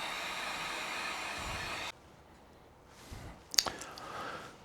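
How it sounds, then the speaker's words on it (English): A heat gun set on low blows steadily to dry color fill on a laser-engraved plaque, a continuous broadband hiss that cuts off abruptly partway through, followed by quieter handling noises and a sharp click. "I'm going to dry that with a heat gun also on low"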